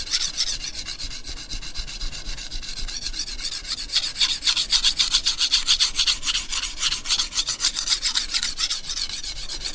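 A knife blade is rubbed on a sharpening stone, working only the very tip with light pressure, making a steady, close rasping scrape in quick repeated strokes that grow slightly louder midway, with no voices.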